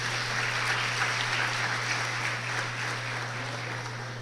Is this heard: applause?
yes